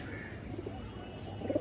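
A pair of Kaldama pigeons coo softly, a faint low murmuring that swells briefly near the end.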